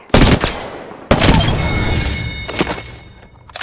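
Apex Legends gunfire in two loud, dense bursts, the first short and the second sustained for over two seconds, with sharp shots and heavy thumps packed close together, plus a few later cracks as the volley trails off.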